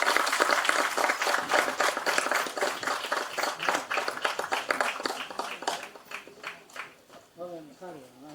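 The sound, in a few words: audience clapping at a movie audio launch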